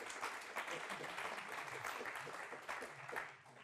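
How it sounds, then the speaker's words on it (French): An audience applauds a speaker at a conference, a dense wash of clapping held at a steady level before tapering off at the end. "Donc on peut applaudir Bruno."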